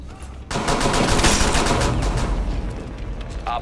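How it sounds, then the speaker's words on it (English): Gunfire in Rainbow Six Siege, a pistol shot in a Kanal secure match, bursts in loudly and sustains a dense, echoing barrage with a short noisy tail, with no talking over it. "It was a pistol shot"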